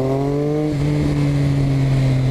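A 2012 Triumph Speed Triple R motorcycle engine pulls hard under throttle, a loud, close, droning roar rising steadily in pitch over a couple of seconds, with no voices.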